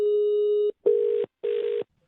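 A ringing telephone tone sounding three times: one long steady beep, then two shorter ones separated by brief silences, loud and close.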